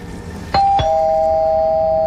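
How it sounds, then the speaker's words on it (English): A doorbell rings twice in close succession, a bright two-tone chime whose second tone rings on and sustains, heard alone over quiet room noise. "The doorbell rang"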